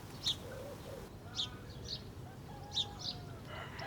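Short bright chirps from small birds at a feeder on an allotment repeat every second or so over a faint outdoor hush, with soft low cooing in the background.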